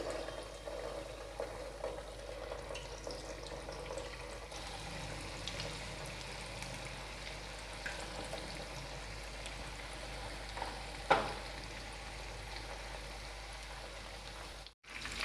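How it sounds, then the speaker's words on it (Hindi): Paneer pieces deep frying in hot oil over medium flame for restaurant-style chilli paneer, a soft, steady bubbling sizzle with a brief clatter near the end, faint and continuous, no voices. "अब हम इसे डीप फ्राई करेंगे डीप फ्राई करने के लिए हमने तेल को अच्छे से गर्म कर लिया है"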